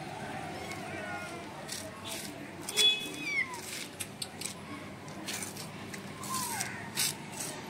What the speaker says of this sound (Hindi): इसमें कुछ म्याऊं म्याऊं कर रहा है